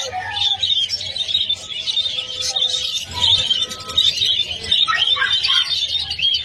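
Gouldian finches at a pet market, a dense, continuous chorus of high chirps and tweets from many birds, with busy market bustle and low murmur underneath.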